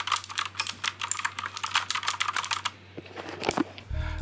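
Rapid typing on a Keychron K6 keyboard, sharp clacking keystrokes in a dense steady rhythm close up, then a short pause and a few scattered taps before a low thump at the end.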